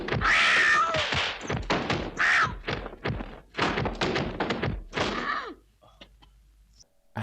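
Characters in the 1982 martial arts film Legendary Weapons of China imitate cat meows and yowls with their voices while thumps and thuds of a fight sequence land around them, loud and busy, then falling quiet.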